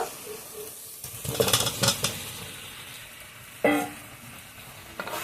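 Fried potatoes and pointed gourd sauté in a pan, making a low sizzle broken by several bursts of stirring and spatula scraping, then a sharp louder sizzle flare.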